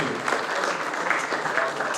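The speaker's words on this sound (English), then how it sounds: "A round of applause as he comes forward" A lecture audience claps as the speaker comes forward, a moderate, even patter of many hands with faint voices mixed in.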